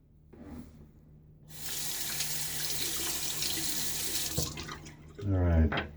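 Water runs from a tap for a few seconds to rinse a razor used for wet shaving, a steady close hiss that cuts off abruptly, with a brief voice after it.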